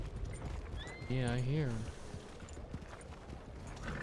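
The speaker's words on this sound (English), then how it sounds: "There's a lot of horses." Many horses' hooves clip-clopping in a Western setting, a soft rhythmic patter in the background, with a clear horse whinny in the middle and a person speaking briefly.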